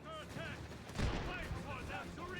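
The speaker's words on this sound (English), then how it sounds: "Luckily, we've got a bazooka team, and they are just pummeling that tank." A bazooka team fires on a tank in the Company of Heroes 3 video game, with a muffled blast and scattered gunfire kept low in the mix under in-game voices.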